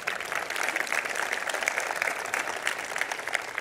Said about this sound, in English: Round of applause for Oracle for that one.